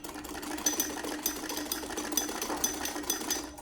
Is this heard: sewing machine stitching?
yes